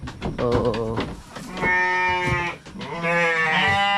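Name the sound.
goats at a goat breeding farm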